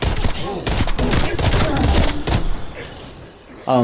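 Rapid bursts of tactical rifle fire in Call of Duty Black Ops Cold War, loud and dense with heavy thumps for most of the clip, then a quieter tail before a final sharp burst.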